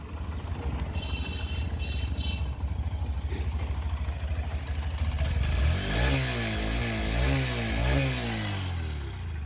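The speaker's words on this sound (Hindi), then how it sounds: "अभी आप लोग इसका एग्जॉस्ट सुनो।" Honda Shine 125 motorcycle, a 2025 E20 model, with its exhaust note steady at first, then climbing into rising and falling revs that sound close and fairly loud with no talking.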